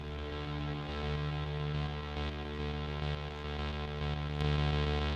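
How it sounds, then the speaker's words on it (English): A sustained, buzzy synthesizer drone plays alone while its reverb effect is turned from none to more, the tone swelling slightly and holding steady throughout. "So there's no reverb, more reverb"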